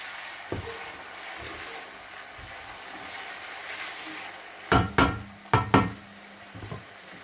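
Ginger and garlic sizzle in a pan for a Pakistani ojhri curry, a steady hiss broken near the end by several loud metallic clanks of a spoon against the pan.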